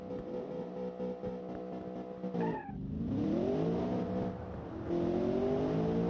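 An off-road muscle car launches hard off the line in BeamNG.drive, its engine revving loud and close through a quick gear change, with a brief tire squeal and the rising pitch climbing again after each shift.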